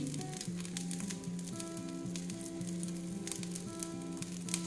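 Oil sizzles around thin chakli pitha in a pan, a quiet, steady crackling hiss with a faint sustained tonal hum underneath.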